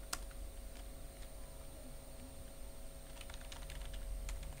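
Quiet computer keyboard typing, a scatter of soft key clicks in irregular short bursts over a faint background hum.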